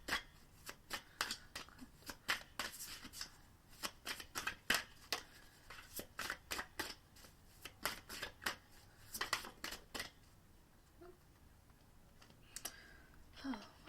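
A deck of mudra cards is shuffled close by in a quiet room, its rapid riffling bursts repeating in quick rhythmic clusters before trailing off into a few faint, scattered sounds.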